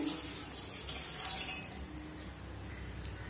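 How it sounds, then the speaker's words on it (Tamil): A glass of water pours steadily into a cooking pot in a soft, continuous stream, heard quietly and close by with no talking. "ஒரு கிளாஸ் தண்ணி ஊற்றிக்கிறேன்"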